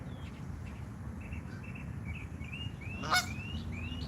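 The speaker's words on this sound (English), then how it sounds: "What a goose." A goose honks several times, a few faint distant calls and then one louder nearer honk, over a steady low background rumble with no talking.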